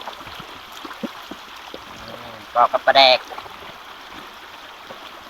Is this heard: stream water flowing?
yes